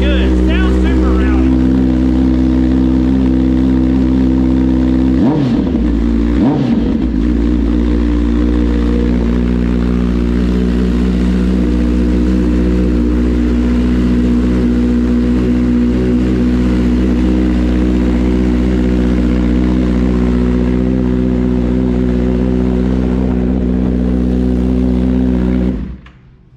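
A loud, steady 2021 Kawasaki ZX-10R sport motorcycle engine with a slip-on exhaust idles and drones close by for nearly half a minute, with a brief dip and surge partway through before it cuts off at the end.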